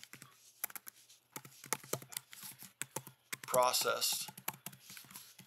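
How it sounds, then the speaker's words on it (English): Fingers type a file name on a computer keyboard, bursts of crisp clicking keystrokes in uneven runs, close by, with a voice talking briefly over the typing. "So we can browse to our location and just type in a name"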